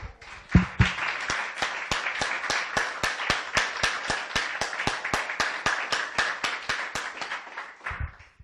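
A church congregation claps in a steady, rhythmic beat, sharp regular hand claps keeping time for several seconds at moderate distance before stopping.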